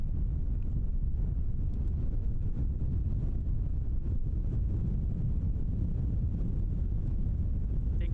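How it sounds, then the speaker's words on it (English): Warm wind gusting at Christchurch airport, a constant low rumble buffeting the microphone throughout, close and steady with no other clear sounds. "the wind coming through is quite warm"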